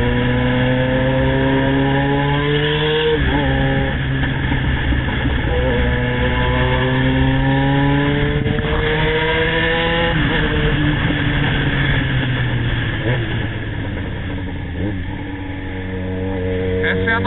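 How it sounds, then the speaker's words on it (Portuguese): Porto Alegre city traffic heard from a Yamaha XJ6 motorcycle, with loud continuous engine drone and rising and falling revs as gears shift, dense road rumble throughout. "Esse é o nosso trânsito. Essa é a nossa Porto Alegre da Copa, do mundo."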